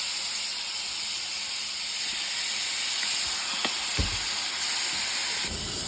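Deer steak sizzling in a pan with teriyaki sauce and Asian barbecue sauce, a loud, steady, close-up hiss and crackle that goes on without a break, with a few soft clicks of utensils.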